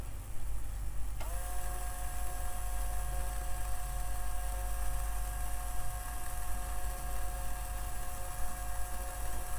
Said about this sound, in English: when I turn it on, it will give me the maximum speed that this motor can reach